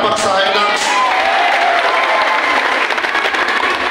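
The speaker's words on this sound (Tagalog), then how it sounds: "Wala bang palakpak sa Hilux?" A crowd at a Cotabato City mayoral event applauds a Hilux raffle, loud dense clapping with some cheering and shouts rising together and holding steady throughout, with voices mixed in.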